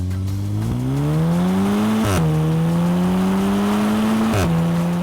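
A 2014 Volkswagen Golf R in race mode revs hard through the gears, the quad-tailpipe exhaust note climbing in pitch with two sharp shifts, loud and continuous throughout.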